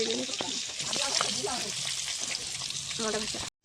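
Potatoes and eggs frying in hot oil in a pan give a steady, close sizzle with crackle, under a voice speaking.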